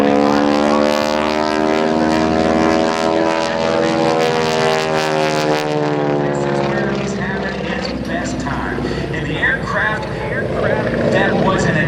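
A World War II era T-6 Texan propeller trainer flies at an air show, its loud, steady, droning engine roar filling the scene while an announcer talks over it.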